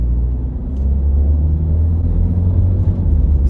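A car with high-mileage transmission fluid pulls away in first gear, a deep steady engine rumble building gradually, heard close from inside the cabin with no talk.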